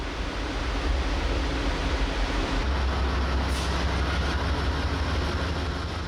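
A long-distance train from New York pulls into an underground platform in Chicago: a loud, steady, roaring rumble of wheels and engine that fills the whole stretch, with no voices.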